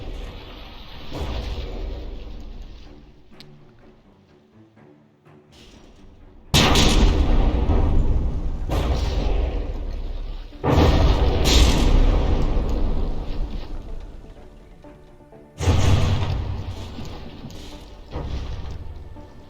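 Battleship gun volleys in From the Depths during a tournament brawl: heavy booming salvos hit in loud bursts with rumbling decay, three big volleys standing out over a steady background of cannon fire and explosions.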